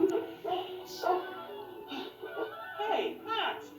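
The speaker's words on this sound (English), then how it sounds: "Eric, get the dog!" A dog yips and whimpers in a run of short, rising cries, several spaced bursts at moderate distance, mixed with voices in a lively cartoon scene.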